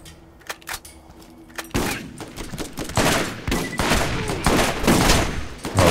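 Rapid bursts of automatic gunfire from a fast-shooting video game weapon, loud, dense and continuous after a few sparse opening shots.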